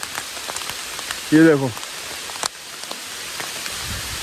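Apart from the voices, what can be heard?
heavy rain and hail falling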